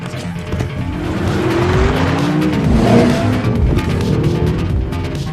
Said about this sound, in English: Frank quickly put Valentina in the car and sped off to avoid their pursuit.